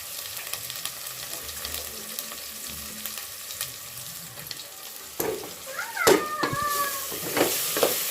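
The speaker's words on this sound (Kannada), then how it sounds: "ಇದನ್ನು ಚೆನ್ನಾಗಿ ಎಣ್ಣೆಯಲ್ಲಿ ಫ್ರೈ ಮಾಡಿ" Ground masala frying in oil for chicken donne biryani, a continuous close sizzle with stirring scrapes that grows louder and busier toward the end, with a few sharp utensil clinks and faint background noise.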